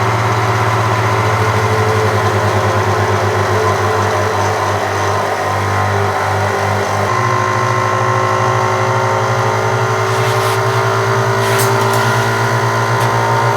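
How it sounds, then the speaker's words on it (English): A WEVAC CV12 chamber vacuum sealer runs loudly with a steady motor drone and pump hum, its pitch shifting partway through as it evacuates a small bag. "It swells the bag up first and then it sucks everything out instantly and it gets it really, really tight."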